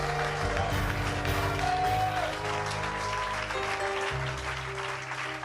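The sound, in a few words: congregation applauding to acclaim Jesus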